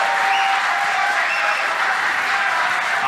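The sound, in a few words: crowd roaring and applauding at pool match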